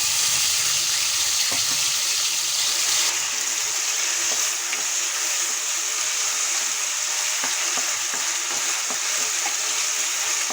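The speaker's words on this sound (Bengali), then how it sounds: "মশলাটা একটু ভেজে নেব।" Ginger, garlic, green chilli and cumin paste frying in oil with bay leaf, cinnamon and cardamom for shahi paneer, a steady loud sizzle with scattered stirring clicks and no talk.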